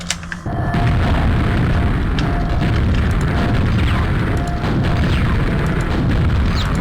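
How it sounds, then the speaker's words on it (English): Homing missiles in a video game fire and burst as shrapnel spray a short distance out, giving a loud, dense, continuous roar of booms and crackling blasts that starts after a brief quiet moment and holds steady throughout. "all they do is just shoot forward and basically burst as shrapnel spray after just a short distance"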